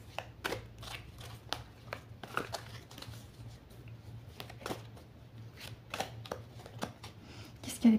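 A deck of cards is cut and handled on a table, giving soft, quick riffling and tapping clicks in irregular bursts, fairly quiet over a faint steady hum, with no talk.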